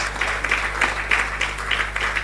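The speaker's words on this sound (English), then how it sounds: "Please, a warm round of applause." Conference audience claps warmly in a hall, a moderate wash of applause with rhythmic bursts over a steady low electrical hum.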